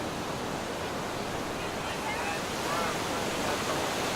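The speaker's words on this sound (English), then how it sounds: "Just the sound of warm waves splashing on a sunny shore." Warm waves splash steadily on a sunny shore, a constant broad wash of surf close and even throughout, with no distinct breaks.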